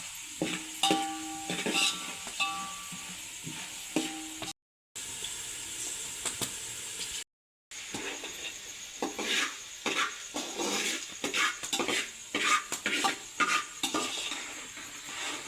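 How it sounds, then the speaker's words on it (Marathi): Chana dal frying in a pan while being stirred, with a continuous sizzle under repeated scraping and clinking of a utensil against the pan, close up, with two brief silent gaps. "हे बघा चणा डाळ फ्राय करून घेऊया"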